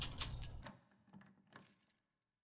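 A bunch of keys jangles briefly and close up, with a bright metallic rattle that thins into a few scattered clinks before fading to silence.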